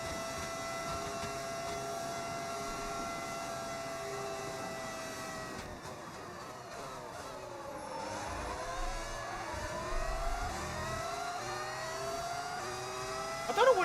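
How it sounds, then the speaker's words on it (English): A modded Cadillac Formula 1 car engine from the F1 26 racing game drones steadily and loudly throughout, its harmonic whine dipping and then climbing as the revs change, with no talk over it. "Is this engine sound modded?"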